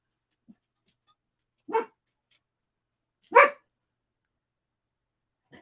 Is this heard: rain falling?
no